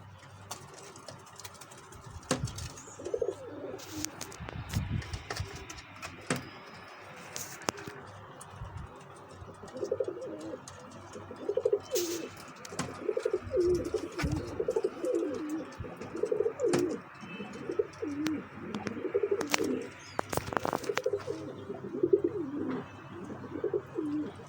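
Teddy pigeons coo softly in repeated low, throaty phrases, with scattered clicks and taps around them in a quiet space.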